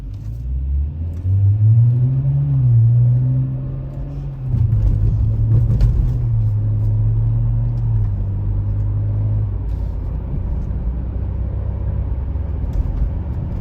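Car cruising smoothly in Eco Pro mode, a steady low engine and road rumble heard from inside the cabin, rising and falling gently over about thirteen seconds, with no talk.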